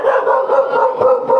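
A chained dog barks steadily and close by in a Teochew Chinese stilt-house village built over the sea, its calls running in a dense, continuous stream for a second and a half with no talk over it.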